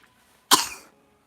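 A single sharp cough, close and fairly loud, bursts out and trails off quickly in an otherwise quiet room.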